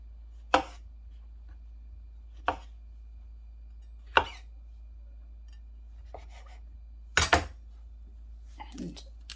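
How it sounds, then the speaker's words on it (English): A knife chops mushrooms into halves on a board, five or six separate sharp cuts spaced a second or two apart, close and clear in a quiet kitchen. "we're going to cut our mushrooms into halves"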